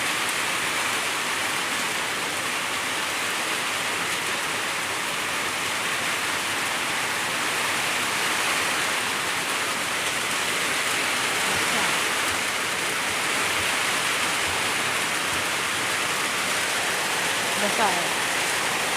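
Heavy rain falls in a continuous, dense hiss with steady loudness throughout, pattering on surfaces, with no clear voices standing out.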